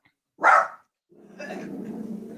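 A dog gives one sharp bark, followed after a pause by a lower, rough growling grumble, fairly close and moderate in volume with no one speaking over it.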